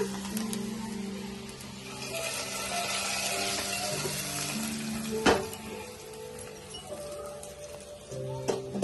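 Hot tempering (oggarane) is tipped into a pot of leafy-greens sambar (soppina saaru), giving a steady moderate sizzle and hiss for several seconds, with a few sharp metallic clinks and faint background tones.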